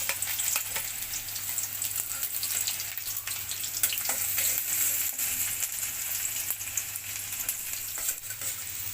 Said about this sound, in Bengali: পেঁয়াজ রসুনগুলো ভাজতে থাকবো ব্রাউন কালার হওয়া পর্যন্ত।